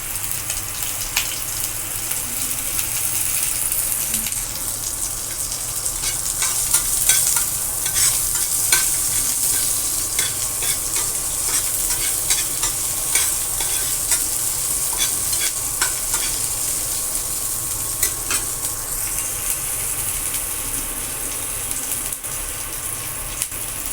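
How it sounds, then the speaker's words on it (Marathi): Green chilies sautéing in a pan for a monsoon wild-vegetable bharangi dish, a steady close sizzle with frequent scraping stirring clicks throughout, no voices. "मिरची थोडी परतून झाली"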